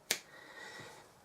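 One sharp finger snap rings out close and crisp at the start, imitating Thanos's snap, then trails into a faint room tail.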